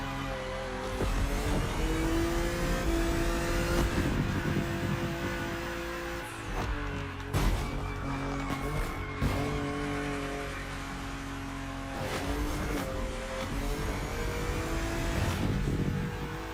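A BMW engine in a racing video game drones steadily at high revs, with pitch shifts during gear changes and a few sharp transients, continuous and loud throughout.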